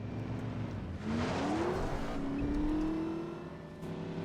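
A car driven in The Saboteur video game: a steady engine drone rising in pitch as it accelerates and shifts, close and continuous with background game ambience, no talking.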